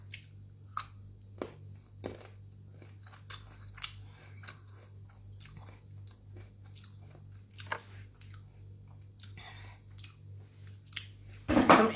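Someone eats sweet raw mango while walking a Bangkok street, with close, crisp crunching bites and moist chewing in irregular bursts over quiet surroundings, ending in a louder rustle.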